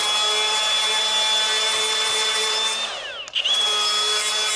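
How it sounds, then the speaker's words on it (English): An M18 cordless die grinder with a sanding disc grinds under heavy load, its high steady whine dipping in pitch as it bites harder, then spinning back up. It is close and loud, with no talk. "For stuff like this where you're putting a lot of load onto a sanding disc and grinding for a while, this thing absolutely rips."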